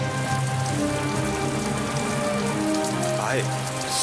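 Steady rain pours down on a street corner, a dense continuous patter heard close and fairly loud for the whole stretch, with a low tonal hum running underneath.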